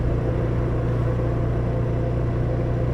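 A vehicle engine drones steadily on an evening ride, a low, constant rumbling hum with no changes in pitch and nobody speaking.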